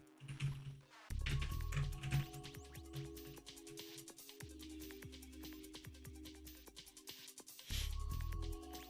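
Keys clack in quick, uneven bursts on a computer keyboard, close and fairly quiet, with short pauses between runs of strokes over a low background hum.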